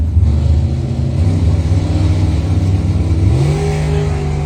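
A 1985 Camaro drag car at a drag strip launches, its engine roaring loud and close with harmonic revving that climbs in pitch toward the end, steady and dominant throughout.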